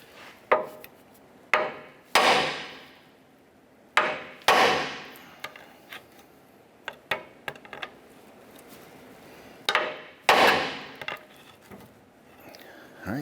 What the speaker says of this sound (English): We're going to strike our knuckle here to release our lower ball joint.